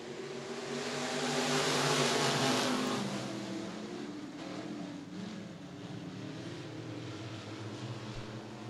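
Stock cars racing at Murray County Speedway, a continuous roar of several engines that swells to a peak then settles into a steady, moderately distant drone, with no talk.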